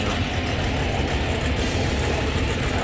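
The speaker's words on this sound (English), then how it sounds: "Kind of a mini burnout, little mini" Loud, steady roar of a 1967 Chevy Camaro drag car with a wheelie bar doing a mini burnout in the racing game Pass Time, a constant high-revving engine drone with no voices.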